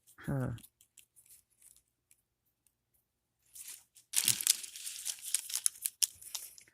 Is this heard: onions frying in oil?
no